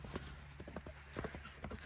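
A horse cantering over ground poles on a lunge line, soft, faint hoofbeats in an uneven rhythm with a low steady background and a little quiet human sound.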